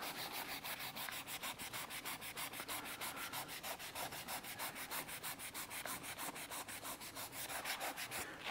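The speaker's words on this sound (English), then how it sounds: "I'm not going to bore you sitting there watching me sanding this trim for half an hour." Close, rhythmic sanding of a car wheel trim by hand, quick back-and-forth rasping strokes repeating evenly without a break and with no talk.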